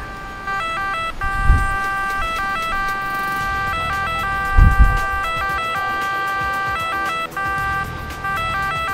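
An electronic two-tone ambulance siren in the video game Emergency 4 alternates steadily and loudly, with a couple of low thumps of engine or impact noise underneath.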